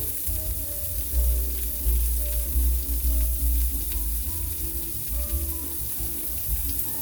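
Shrimp and lemon garlic salmon sizzle in a hot pan, a steady close frying hiss with crackles and a low rumble throughout.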